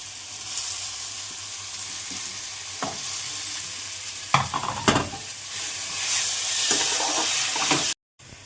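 Chopped tomato and whole spices hitting hot oil with ginger and garlic in a pan, giving a steady sizzle with scraping stirs and a few sharp crackling bursts near the middle, close and moderately loud.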